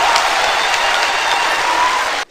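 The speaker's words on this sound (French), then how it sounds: "Puis applaudir le président très fort." Crowd applause for the president at a Central Committee meeting in Côte d'Ivoire, steady dense clapping at full strength throughout, cutting off abruptly at the very end.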